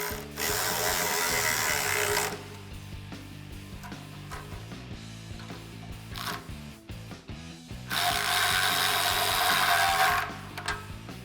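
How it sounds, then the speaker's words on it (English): A ratchet driving a 15mm socket snugs down exhaust clamps on a 2015-2020 F150 3.5L EcoBoost during a Roush dual exhaust install, giving two loud bursts of rapid clicking with a quieter pause between them. "now I'm just going to snug the clamps with a 15mm socket"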